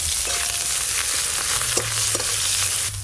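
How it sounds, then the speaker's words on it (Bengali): Chopped onions fry in mustard oil in a pan, a steady close, loud sizzle with occasional stirring scrapes. "পেঁয়াজ কুচিগুলো একটু ভালো করে ভেজে নিয়েছি।"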